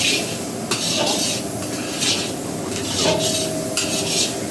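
Black carrot halwa with ghee being stirred in a pan, a steady scraping and soft sizzle with repeated bursts of utensil strokes against the metal, close and continuous without any voices.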